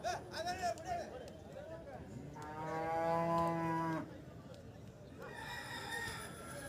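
Young cattle calves at a weekly livestock market in Kuzhalmannam bellow with a long, loud, rising moo in the middle, between stretches of nearby market chatter and background voices.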